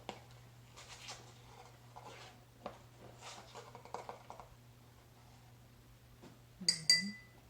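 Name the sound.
spoonfuls of baking soda added to a tall glass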